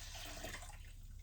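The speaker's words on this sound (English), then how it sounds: "pour this in from high up just to help get some oxygen" Cherry melomel mead must, poured from high up into a big batch, splashes faintly and continuously for about a second, a soft liquid patter with no voices.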